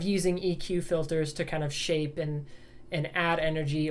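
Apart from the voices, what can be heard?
None of the usual background noises is heard.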